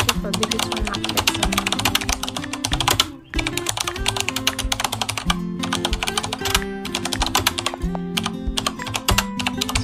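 Fast, steady clatter of keys on a computer keyboard, close and prominent, with a brief pause midway before the typing resumes.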